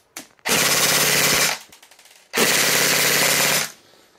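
An A&Y AY-3M airsoft gun fires two loud full-auto bursts of about a second each, with a rapid buzzing rattle of roughly 17 rounds a second and a short gap between bursts.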